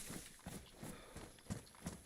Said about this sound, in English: Might just been my own doubling footsteps